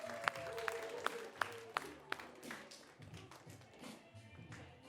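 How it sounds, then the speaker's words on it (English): Sparse, quiet claps from a small improv comedy audience as players return to the stage, half a dozen sharp hits early on that fade into low murmuring and shuffling with some voices. "And we'll applaud for them as they come back in."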